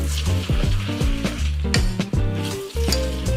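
Yubu japchae tossed with sesame oil sizzles and hisses in a pan, broken by repeated scraping, clattering stir strokes at an uneven rhythm, loud and close.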